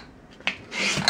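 Felt hammers of a Steinway L piano action are filed by hand, giving a short rasp and then a longer, louder scraping stroke that ends in a light knock, heard close and alone.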